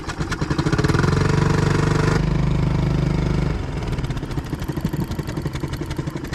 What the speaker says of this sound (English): I'm gonna fire the big motor up here and troll down into this cove